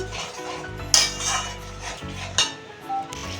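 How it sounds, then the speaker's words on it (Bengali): Spice paste with a little water being stirred and fried in a pan over medium heat for a pomfret fish curry, a utensil scraping and clinking against the metal with several sharp knocks over a low sizzle. "ভালো করে মশলাটা আমি দুই থেকে তিন মিনিট কষিয়ে নিব"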